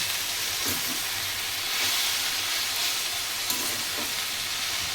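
Methi (fenugreek) leaves sauté in a pan with a steady, quiet sizzle and hiss, broken by a few soft scraping stirs, close by with no talk.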